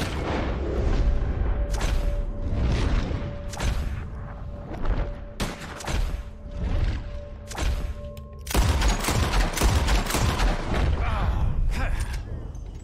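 Gunshots crack repeatedly in a video game target-shooting scene, a steady series of sharp, loud reports spaced about a second apart that tighten into a dense rapid volley near the end, with a faint tone and rumble underneath.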